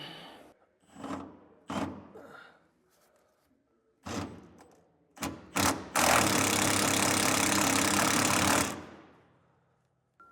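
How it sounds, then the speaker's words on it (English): Jounce bumper bolts being removed from the frame of a 2020 GM truck with a 10mm socket on a short extension: several short mechanical bursts and clicks, then one loud, sustained whirring burst lasting about three seconds, close up with no talking. "Take a 10mm socket with a short extension, and we're going to remove these bolts that are holding our jounce bumpers on."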